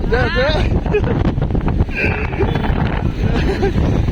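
Strong wind buffets the microphone with a constant roar in Surat during rain, with the Tapi river overflowing, while people talk over it and a few brief whistling tones come and go.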